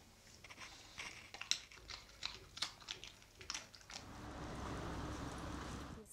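A dog gnaws on a chew toy at close range in a series of irregular crunchy bites and clicks, followed by a softer steady rustle.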